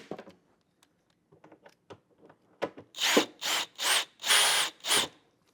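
A power tool drives 8 mm bolts securing a fender vent plate to the wheel liner on a BMW F32/F33 with an F82 fender swap: scattered light clicks and handling, then five loud, close bursts of whirring in quick succession.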